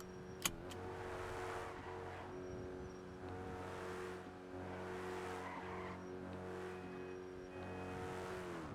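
In a driving video game, a car engine stuck in first gear holds a high, steady rev, droning loudly and continuously with a faint tire squeal, and no speech.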